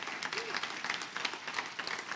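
Church congregation applauding during a Sunday service, a steady, dense wash of many hands clapping at moderate volume for the whole stretch, with no one speaking over it.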